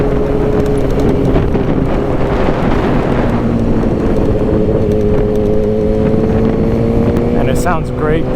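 A Suzuki GSX-R 600 sport motorcycle engine drones loudly and steadily while riding, its pitch rising slowly, with heavy wind buffeting over the microphone throughout.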